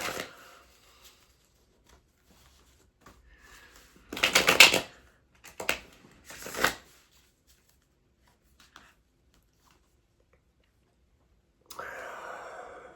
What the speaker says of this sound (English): Let's get our clarifier deck shuffled. And put 3 shuffles into this one